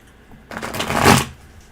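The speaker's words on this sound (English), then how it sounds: "You know I like to use the table to shuffle." Tarot cards are riffled against a tabletop in a single quick, crisp burst of flapping that builds and fades within about a second, close and clear, with no talk.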